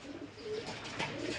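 Pigeons coo softly inside a dark coop at night, a low, continuous murmur of calls against faint background noise.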